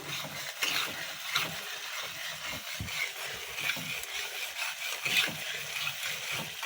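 Mutton brain frying in a pan while being stirred continuously, with repeated scraping and rubbing strokes of a utensil over a soft, fairly quiet sizzle, close and without talk.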